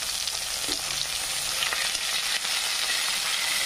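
Chopped tomatoes with onion and curry leaves frying in a hot pan for dal, a loud, close, dense sizzle and crackle running steadily throughout with light stirring, no speech.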